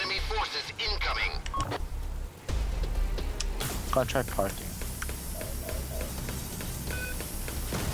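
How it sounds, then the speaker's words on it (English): Telephone dialing tones sound during an online PVE mission in the space shooter game Star Conflict, short beeping tones rising over game sound effects while players talk over voice chat. "Sorry, you had a phone call."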